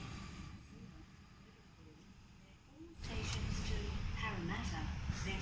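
A Waratah electric train pulls out of a Sydney platform on the South West Rail Link toward Leppington, a quieter rumble giving way to a louder rolling rush with rising motor whine and screeching, close by.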